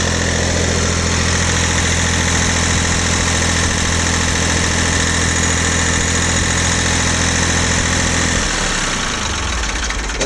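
A Ford 1710 diesel tractor engine idles steadily with a deep, even rumble, close and loud, the low throb shifting slightly near the end.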